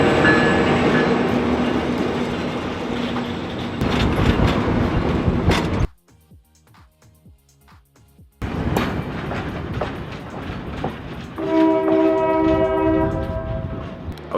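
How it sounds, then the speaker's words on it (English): A train rumbles past close by near the Grand Canyon with clattering wheels, drops away briefly, then returns loud with a long blaring horn near the end. "So I am going to get some train footage."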